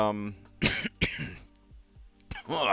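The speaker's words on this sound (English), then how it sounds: "still fighting this cough" A person coughs several times in harsh bursts, up close, with a throat clear between them.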